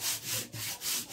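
Hand sanding of a vase made from a milk carton, heard as three close, steady rubbing strokes in a back-and-forth rhythm, with no talking.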